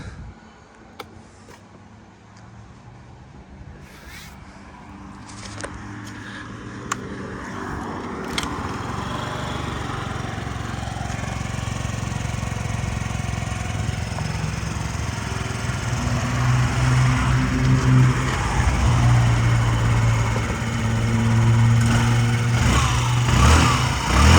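A fuel-injected Yamaha Jog SA56 scooter engine idles and runs steadily, its buzzing hum growing fuller and louder over time, with a few clicks and knocks early on.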